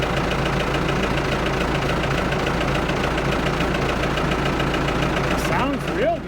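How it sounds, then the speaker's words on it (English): A scrapyard Ford 655A backhoe loader diesel idles steadily up close, a loud continuous low rumble with a faint rhythmic knock, running alone without pause. "Wow, listen to that thing idle."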